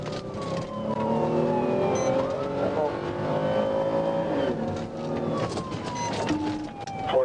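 A Chrysler 300 speeds away from Arkansas State Police through city streets against oncoming traffic, its engine roaring steadily while a wailing siren sweeps up and down over the chase.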